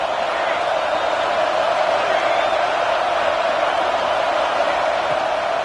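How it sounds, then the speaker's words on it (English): Auburn football stadium crowd roars on a third down against Oklahoma, a dense, steady wash of distant cheering that holds at an even level throughout with no single voices standing out. "This Auburn crowd trying to conjure up a little magic here on third down."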